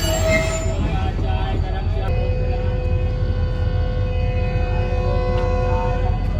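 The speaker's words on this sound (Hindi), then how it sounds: "तो हमारी ट्रेन अब रवाना होने लगी है" A Fareed Express passenger train pulls out of a station on the main line, with steady rolling rumble of wheels on rails and a long sustained metallic wheel squeal running throughout, loud and close.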